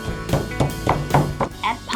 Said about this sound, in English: so I will make Thai sauce by mortar. Pound garlic and chili.